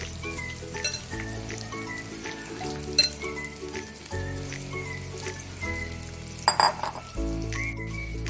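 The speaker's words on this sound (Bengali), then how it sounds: "এবার আমি আবার এই তেলের মধ্যে সেকেন্ড ব্যাচ চিকেনগুলো দিয়ে দিলাম।" Chicken pieces for Chicken Manchurian fry in oil over low heat, a steady soft sizzle broken by occasional clinks of a utensil against the pan.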